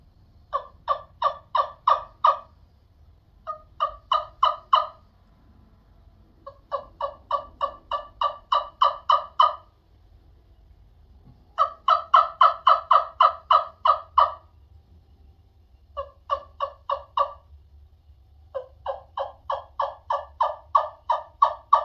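A wooden wing-bone-style turkey call is played in bursts of rapid, evenly spaced yelps, about six runs of clucks separated by short pauses, loud and close with no talking.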